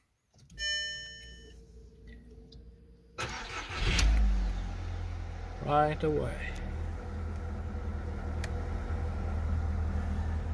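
A 2003 VW Polo 9N with a 1.4 16V engine, cold after sitting for a long time, gets a chime and a brief crank, then catches and settles into a steady idle, heard close under a short spoken phrase.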